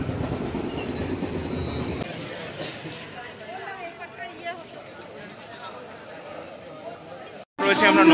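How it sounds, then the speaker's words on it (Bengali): A crowded commuter train pulls into a busy Bandel station platform in West Bengal, its rumble and rail noise fading as it slows, with people talking over the crowd and a sudden loud burst at the end. "চলে এসছে আমাদের ট্রেন"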